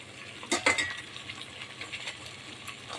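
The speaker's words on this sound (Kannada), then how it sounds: "ಈರುಳ್ಳಿ ಫ್ರೈ ಆಗ್ತಾಯಿದೆ" Onions fry in oil in a pan, a soft steady sizzle broken by a few sharp metallic clinks of a stirring spoon early on, close and fairly quiet with no talking.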